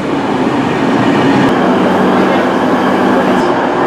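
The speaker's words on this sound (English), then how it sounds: "we just got off our first train and we're getting ready to get on the second train" A train rumbles loudly and steadily, a dense continuous roar with faint rail clatter throughout.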